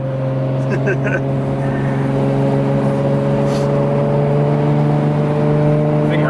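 A Nissan Skyline R32 GTR (BNR32) with a dual clutch cruises on the highway, its engine a loud, steady in-cabin drone with a constant low hum throughout.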